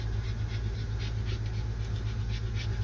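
Small dogs pant close by in a quick, continuous rhythm of breathy puffs over a steady low rumble.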